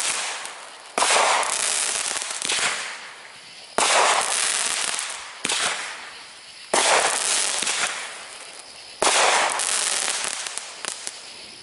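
A 100-shot fireworks cake going off outdoors as a grand finale, heard as repeated bursts of rapid crackling volleys separated by short pauses, loud and fairly close, with no talking.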